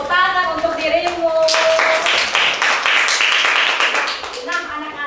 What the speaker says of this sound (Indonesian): Tepuk tangan untuk dirimu.